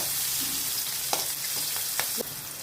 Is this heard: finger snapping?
no